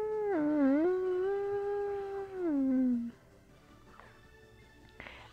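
Pet dog howling at home, a long wavering howl that bends in pitch and slides downward before stopping, close, followed by quiet room sounds.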